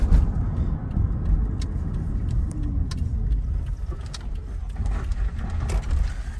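Car rolling in and pulling up, a steady low rumble of road and engine noise heard from inside, with faint mechanical clicks and rattles throughout.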